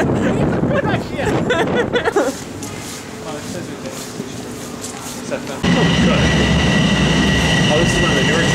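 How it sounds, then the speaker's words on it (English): Newer passenger train rolling past close by with a steady rumbling roar and rail noise, growing louder midway as the cars pass, while people chat and talk nearby. "Oh, this is one of the newer trains too."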